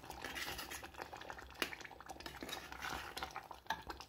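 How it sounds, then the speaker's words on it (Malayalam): Pineapple pachadi being mixed in a pot, with soft scraping and clinking strokes of a spoon, irregular and close, over a quiet background with no talking. "ഇത് നന്നായിട്ടൊന്ന് മിക്സ് ചെയ്ത് കൊടുക്കാം"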